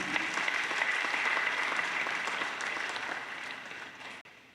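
A church congregation bursts into sustained applause at Mass, dense clapping that carries on steadily before tapering off near the end.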